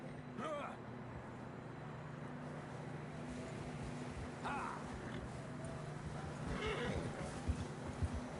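Horses in the Red Dead Redemption II video game whinny and clop along at a steady gait, with hoofbeats and snorts running under a constant low ambient hum and occasional voices.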